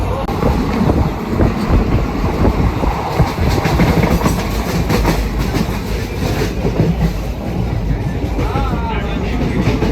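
A train rolls into a station on a trip from Udaipur to Goa, giving a loud, continuous rumble with rhythmic clickety-clack from the wheels and wind buffeting the microphone throughout.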